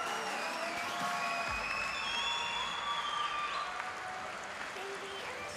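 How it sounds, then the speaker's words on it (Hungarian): Steady applause from an audience for individual cosplay contestants at the PlayIT Show in Budapest, a continuous wash of clapping with light cheering, accompanied by music tones. "És még egyszer egy utolsó nagy tapsot kérek szépen az egyéni versenyzőinknek."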